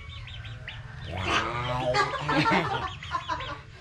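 A hen clucks in a series of close, fairly loud calls while people talk over and around it.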